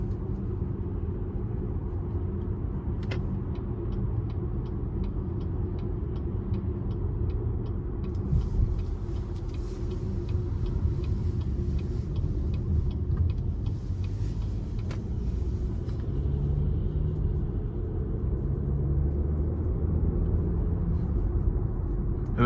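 A 2023 Cadillac XT4 Sport is driven in tour mode, giving a steady, even cabin rumble of engine and road noise, with a run of faint regular ticks partway through.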